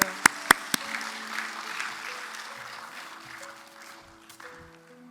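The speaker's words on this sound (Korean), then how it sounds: "우리의 기도를 들으신 하나님께 영광의 박수 올려드립니다" A congregation at a Korean lay believers' prayer day gives a round of applause over soft keyboard music. A few sharp claps open the clip, then the clapping fades into a moderate, fading patter.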